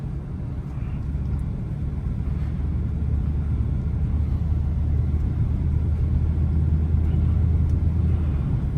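A Range Rover SVR drives through snow, a steady low engine and road rumble heard from inside the cabin with no clear voices.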